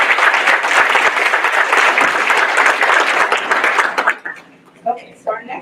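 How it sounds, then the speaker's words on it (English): Loud, close applause from staff and residents at a medical graduation ceremony honoring an award recipient, thick clapping held steady for four seconds before fading into scattered claps and brief speech. "Let's just give her another round of applause."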